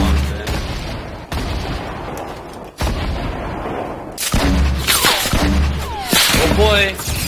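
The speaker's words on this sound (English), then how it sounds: "Oh, I'm getting shot from behind" Rapid bursts of gunfire in the Fortnite video game, loud and close, crackling in repeated volleys with a couple of sharp pauses, while a player talks over the shooting.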